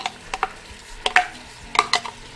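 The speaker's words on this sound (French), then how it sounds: "Je vais mettre donc mes oignons." Onions with garlic, coriander and parsley added to browned meat in a pan and stirred, a series of close spatula clinks and scrapes in short bursts over a soft low sizzle, no talking.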